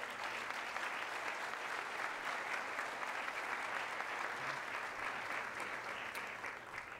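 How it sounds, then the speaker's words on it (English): An audience at a history lecture gives a round of applause for community organizers, with a steady, moderately distant wash of clapping that runs evenly for about seven seconds. "Let's give them a round of applause."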